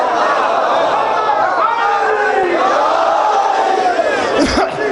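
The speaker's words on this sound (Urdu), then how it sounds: "تم نے سنا، سر دھنا، شور ڈالا، نعرے لگائے، واہ واہ کی" A packed majlis audience in Lahore erupts in a loud, sustained roar of chanted slogans and exclamations of praise, many voices overlapping close by, swelling and wavering for several seconds before breaking off abruptly.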